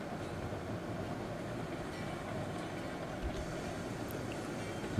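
Locomotive in the RailRoads Online game hauling its cars in reverse, a steady low rumble of rolling stock with faint rail noise running continuously throughout.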